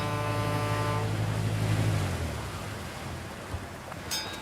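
A boat moves across the water, a deep horn-like engine drone fading after a couple of seconds into a broad wash of water and wind noise, with a faint high tone near the end and no talking.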